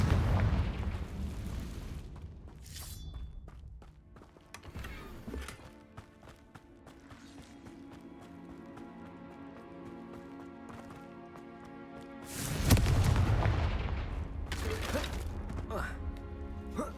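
Fiery spell explosions in the Hogwarts Legacy video game on PC burst loudly over a game soundtrack, with a big blast near the start and another heavy boom around the middle-late section, amid clattering combat noise.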